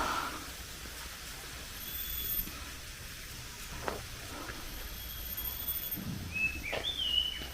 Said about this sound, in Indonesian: Tuh banyak suara burung-burung liar.